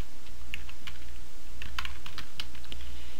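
Light clicking keystrokes on a computer keyboard, a short irregular patter of taps entering text into a spreadsheet cell, set against a low steady hum.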